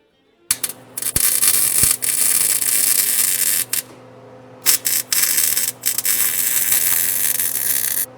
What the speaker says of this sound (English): let me get it in place and weld this last weld up here